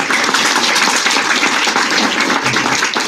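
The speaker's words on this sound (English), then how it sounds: "let's give Nikki Hill a round of applause" Steady applause from a crowd, dense clapping that carries on evenly throughout without a break.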